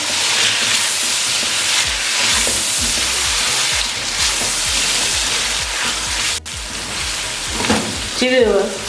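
Masala with coriander powder frying for chicken korma, a loud continuous sizzle with stirring scrapes throughout, close and steady with a brief clink near the end.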